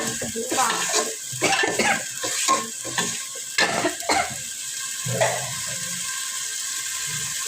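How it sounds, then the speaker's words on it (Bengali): Ingredients for khichuri sizzling in a pan while a utensil scrapes and stirs in quick irregular strokes, close and moderately loud, the stirring dropping away near the end to leave a steady soft fry. "সবগুলো দিয়ে একবারে কষিয়ে নিতেছে ভালোভাবে নেড়ে চেড়ে"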